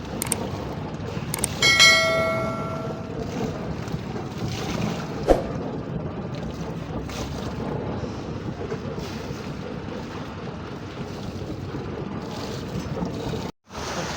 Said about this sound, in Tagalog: may bangkang lumapit sa amin mga idol